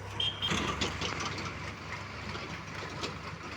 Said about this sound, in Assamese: এতিয়া ট্ৰেক্টৰটো পাৰ হ'ব